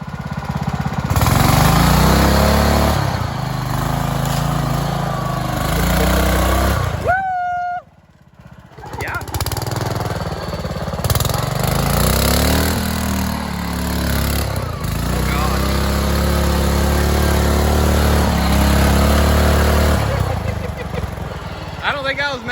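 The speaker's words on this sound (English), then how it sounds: "The tractor is honestly going better than the four-wheeler" A tractor engine revs hard and bogs down under load, a loud, continuous labouring drone with a brief drop partway through, while people talk over it throughout.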